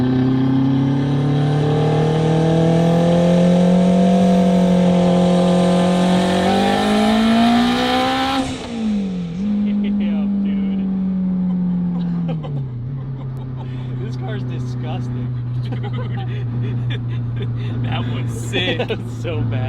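Close and loud, an all-wheel-drive turbocharged Honda RSX with a K20 engine does a second-gear brake-boost launch, revving up into a long rising wail, dipping abruptly at a shift, then holding a steady, lower drone.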